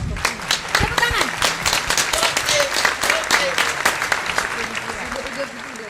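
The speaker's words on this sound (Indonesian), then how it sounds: "Tepuk tangan." An audience at a Batak stand-up comedy show breaks into lively applause, with dense clapping throughout and voices and cheering mixed in before it gradually eases off.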